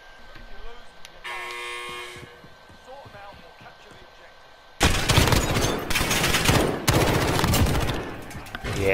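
Gunfire in the shooter game Modern Warfare erupts in rapid, loud, close bursts after a quieter opening of beeps and game effects, with voices talking over parts of it.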